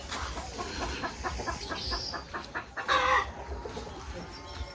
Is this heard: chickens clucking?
yes